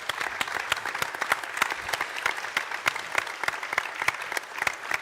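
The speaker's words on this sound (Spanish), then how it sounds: "Yo creo que le debemos dar un aplauso" An audience at a talk-and-discussion event breaks into dense, sustained clapping that holds steady and fairly loud from start to finish, with no speech on top.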